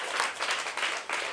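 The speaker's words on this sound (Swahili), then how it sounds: "Shangilie Kristo Yesu kwa makofi yako." A church congregation applauds for Jesus Christ at a worship service, a dense wash of clapping that swells in several waves across a short burst, with no speech over it.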